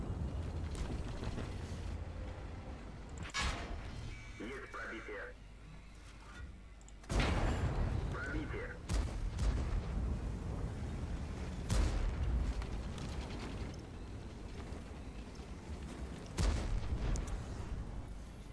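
Tank cannon shots in the World of Tanks online game, a few heavy booming blasts spaced seconds apart over a constant engine rumble and mechanical clatter, fairly close and loud.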